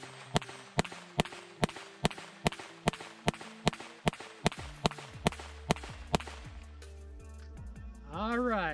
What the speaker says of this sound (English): First mag we're going to shoot is going to be CCI Stingers.